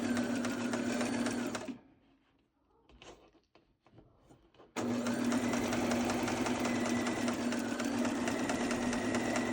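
Sewing machine stitching baby burial outfit fabric: steady loud motor run, a short pause with light handling noises as the fabric shifts, then a long continuous stitching run.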